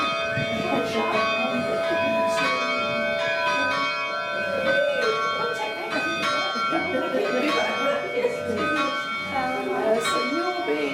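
Bells ringing in the Perth Bell Tower, sustained overlapping tones with strong harmonic hum filling the space, heard close with voices talking underneath throughout.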